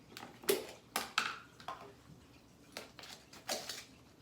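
A metal teaspoon clinks against a ceramic tea cup while sugar is spooned in for tea, giving a series of light, close clinks and taps spaced irregularly over a few seconds, with no talking.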